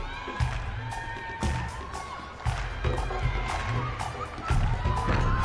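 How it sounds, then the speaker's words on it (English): A college gymnastics arena crowd at the NCAA women's championships cheers and claps in rhythmic unison, steady loud beats rising over a broad roar of voices. "You can see the crowd getting into it."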